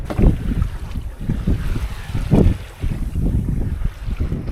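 Wind gusts buffet a sailboat under way offshore, loud rumbling bursts close to the microphone with a hint of water movement beneath.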